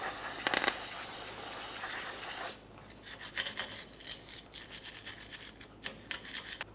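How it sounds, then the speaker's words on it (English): A can of parts cleaner sprays in a loud hiss on the hub mating surface of a 1994-2002 Ram 2500, then a small wire brush scrubs the metal in close, uneven strokes. "For this, we'll use some parts cleaner and a little wire brush."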